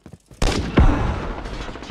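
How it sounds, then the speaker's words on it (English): Grau 5.56 assault rifle fire in Call of Duty 2019 Onslaught mode: two sharp shot bursts with a booming decay, close and loud, after a few faint clicks. "I'm playing with the Grau. Assault rifle."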